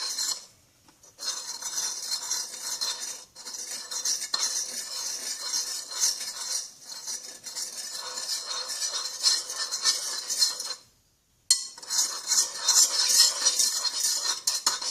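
A teaspoon stirs homemade slime in a bowl, giving a steady, close run of metallic scraping and clinking that pauses briefly several times; no voices are heard.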